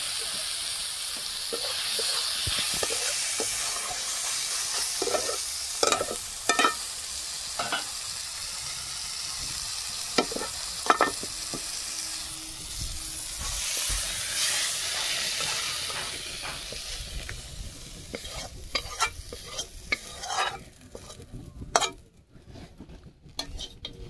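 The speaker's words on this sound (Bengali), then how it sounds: "শাক ভাজা হয়ে গেছে।" Leafy greens stir-fried in mustard oil sizzle steadily in a pan, with close metal clinks and scrapes of the spatula stirring through, tapering off toward the end.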